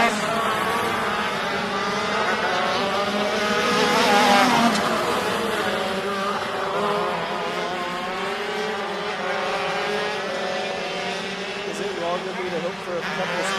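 ROK Shifter class karts racing at ROK Sonoma, several engines buzzing and whining as they pass, the pitch rising and falling with gear changes, while an announcer talks over the track noise.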